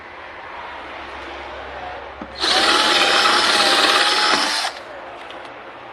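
A power drill whines loudly for about two seconds, biting into a small Bluetooth speaker box as it drills a hole, then stops; quiet room tone before and after.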